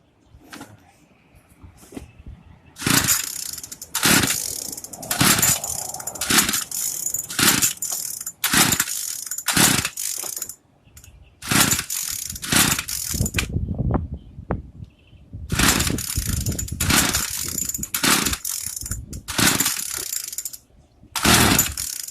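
Repeated sharp pull-cord yanks of a Craftsman string trimmer's small engine, a rapid series of rasping bursts with brief pauses, the motor sputtering but not catching.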